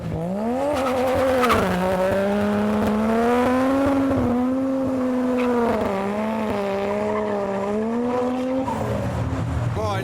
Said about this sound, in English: cars are starting up, getting ready to depart